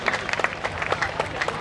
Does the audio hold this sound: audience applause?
yes